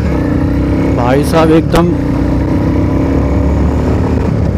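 A 2022 Royal Enfield Meteor 350 motorcycle accelerates on the road, its loud, steady engine drone running throughout while someone talks over it.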